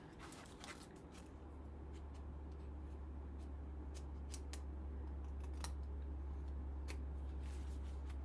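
Scissors trim a paper ocean-animal craft piece, giving a series of quiet, sharp snips spaced irregularly over a steady low hum, with no talking.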